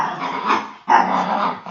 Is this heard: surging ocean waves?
no